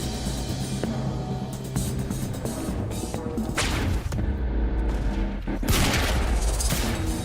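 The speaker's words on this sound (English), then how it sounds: "I'm about to headshot the sniper with a pistol" Pistol fire in the video game Quantum Break, several sharp shots scattered through a busy, loud mix of game action and impacts, with no talking.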